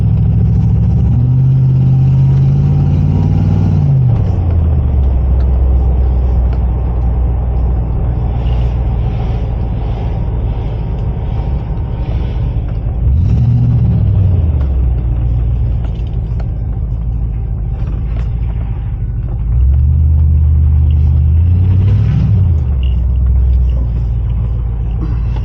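Range Rover P38 cornering on a road after a steering damper replacement, a loud steady engine and road rumble throughout with pitch rising and falling as it accelerates and eases off through the curve.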